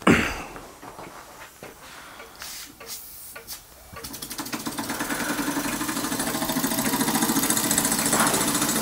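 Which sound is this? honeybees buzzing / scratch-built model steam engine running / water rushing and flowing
scratch-built model steam engine running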